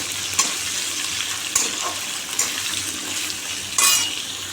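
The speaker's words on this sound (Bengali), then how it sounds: "তিনটে আলু দিয়ে দিতাম এবার করে ভাজবো আলুগুলো" Small cut potatoes fry in a pan with green chilli and oil, a steady close sizzle broken by a few louder stirring scrapes, with no voices.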